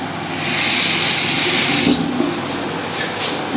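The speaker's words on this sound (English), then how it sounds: "You can see the water coming. Shower working, hand shower working" Steady broadband hiss of water running from a shower and hand shower in a bathroom, loud and continuous, easing slightly in the second half.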